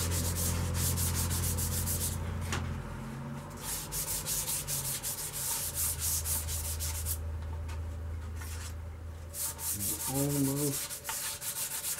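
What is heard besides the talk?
light sanding of green poplar wood bowl with 320 grit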